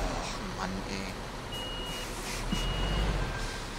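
A heavy truck hauling a container in Bau-Simulator 2015 rumbles steadily with a low engine drone and a repeating reversing beep, loud and close throughout.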